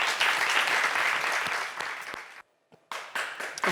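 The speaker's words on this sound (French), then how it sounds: "Merci à notre candidat, on va l'applaudir quand même." Studio audience applauding a game-show contestant with steady, dense clapping that cuts out abruptly into a brief silence, then resumes loudly for the final second.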